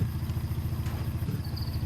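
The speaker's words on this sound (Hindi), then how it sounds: "अब मैं अपनी बाइक से चलेंगे अब हम" A motorcycle rides in the video game Dude Theft Wars, its engine giving a steady, pulsing low rumble at moderate volume with a faint tone near the end.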